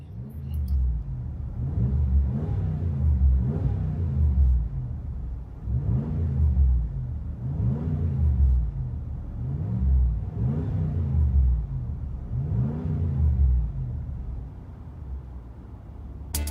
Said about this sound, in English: interior tone level is mild with this Flowmaster Super 44 muffler.